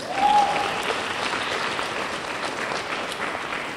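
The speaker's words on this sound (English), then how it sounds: "you can applaud for Shari anyway" Applause from an awards ceremony audience, a steady wash of clapping that swells briefly at the start and then holds evenly, heard from a moderate distance for about four seconds.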